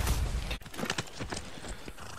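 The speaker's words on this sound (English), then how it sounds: "Alright, let's go by horse." Horse hooves clip-clop in a video game, a steady run of hoofbeats with a horse whinnying, over continuous game ambience.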